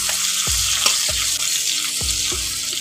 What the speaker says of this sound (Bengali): পেঁয়াজটাকে ফোড়নের সঙ্গে একটু ভেজে নিচ্ছি।